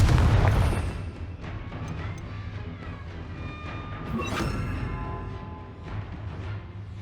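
A Confringo fire spell blasts in Hogwarts Legacy, opening with a deep booming burst that fades into a rumbling tail, then a second softer crackling impact midway, with scattered game effects around it.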